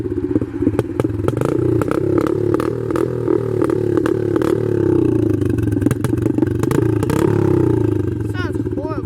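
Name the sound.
dirt bike engine running rough, low on oil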